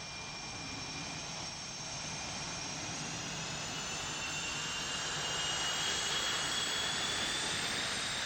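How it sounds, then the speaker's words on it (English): An FA-18 Hornet jet roars in a continuous loud broadband rush with rising whining tones, building slightly in intensity throughout without any speech. "The other airplane central to the mission is the F-16's Marine Corps counterpart, the FA-18 Hornet."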